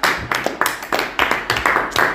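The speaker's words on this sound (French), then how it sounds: "Applaudissements pour le Seigneur." A church congregation claps together in a steady, quick rhythm, with sharp hand claps repeating about every quarter second, fairly close and loud.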